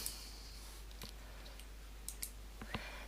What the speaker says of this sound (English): Then I will click confirm.